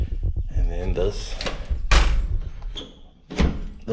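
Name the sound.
door being opened that is hard to open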